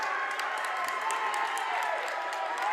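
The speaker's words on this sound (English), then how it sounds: "The Ridgway crowd excited." Excited crowd at a District 9 Class AA boys' high school basketball game, Karns City vs. Ridgway, cheering and applauding steadily throughout, loud and sustained with a dense wash of clapping.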